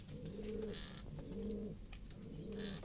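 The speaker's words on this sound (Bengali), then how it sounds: "দেখেন কবুতরগুলো গরমে, ম্যাক্সিমাম কবুতর বাহিরে" Several pigeons coo in repeated low, rolling phrases at a village loft in the hot summer, the calls overlapping in a steady rhythm close by with no talk.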